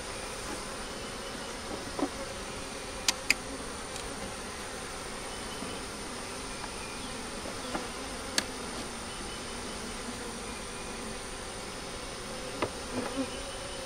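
Honeybees buzz around an open hive holding stores, brood and new foundation, a steady outdoor drone of many wings that runs the whole time, with a few brief sharper passes of single bees close by.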